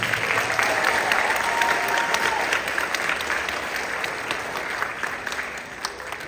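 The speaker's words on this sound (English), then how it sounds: "Let's give these guys one more round of applause." Audience applause at a high school band spring concert in Joplin, broad and full from a large crowd, loud at first and then tapering gradually as the clapping thins out toward the end.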